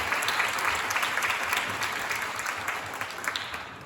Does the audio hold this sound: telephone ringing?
no